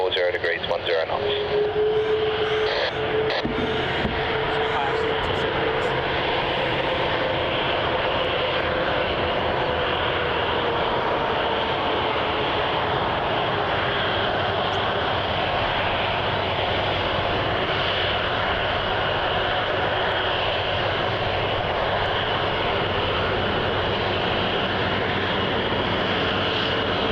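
An airliner takes off from runway 34 at Melbourne Airport, its engine roar a broad, steady rumble with a rising whine sustained throughout, while air traffic control radio talk runs over it.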